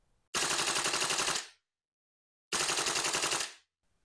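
VFC BCM MK2 MCMR 14.5-inch V3 gas blowback airsoft rifle firing two loud full-auto bursts of about a second each, rapid sharp cracks separated by a brief silence.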